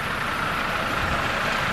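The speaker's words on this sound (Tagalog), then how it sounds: "Ito po yung sakyan namin ng bus." A bus idling before a trip, a steady, close, broadband engine rumble with no distinct changes across a short stretch.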